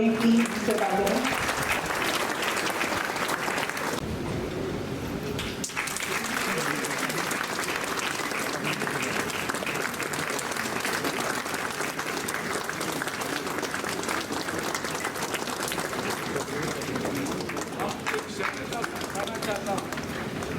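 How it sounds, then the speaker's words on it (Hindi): Applause from an audience at a ceremony opening an Ayurvedic clinic at an Ayurvedic hospital, a steady, dense wash of clapping that carries on for the whole stretch with a crowd murmur mixed in. "सभा में मौजूद सभी लोगों से मैं आग्रह करती हूँ कि इस अवसर पे अपना शुभ आशीर्वाद तालियों के रूप में देने की कृपा करें"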